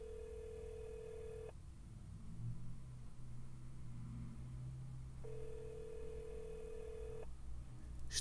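An unanswered 911 call in the Duskwood video game rings twice as long, steady electronic tones separated by a lengthy silent gap, faint and even over a low background rumble.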